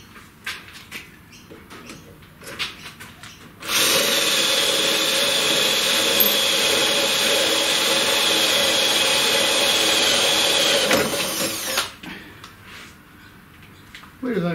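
A power tool cuts aluminium lubricated with WD-40, starting abruptly with a loud, steady, high-pitched whine that holds for about eight seconds and then stops, with quieter tapping and handling before and after.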